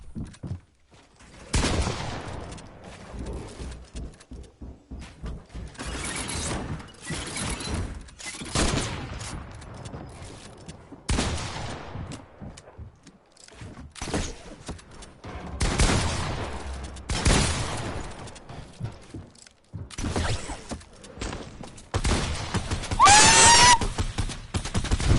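Gunfire in Fortnite creative mode comes in separate loud bursts of rapid shots, each lasting a second or two, broken up by short quiet gaps, with a few single cracks scattered in between.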